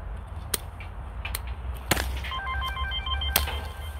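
A telephone rings in a repeating electronic trill partway through, over a low steady hum, with a few sharp snaps and clicks scattered around it.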